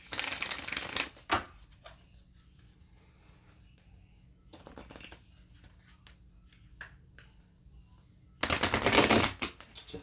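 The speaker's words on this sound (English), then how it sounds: "as I'm shuffling these cards" Playing cards are riffled in two quick bursts, one at the start and one near the end, with soft handling noises in between.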